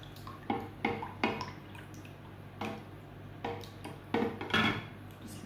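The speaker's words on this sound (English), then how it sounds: "And then just give it a mix." Food colour being mixed in a small bowl for cake decorating, heard as a series of light clinks and taps of a utensil against the bowl, close and intermittent over a quiet background.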